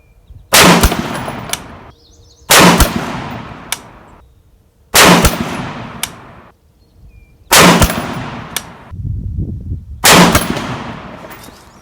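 Five loud rifle shots from an RRA 20-inch varmint rifle fired at a 100-yard range, each sharp crack followed by a short echoing decay, spaced roughly two seconds apart.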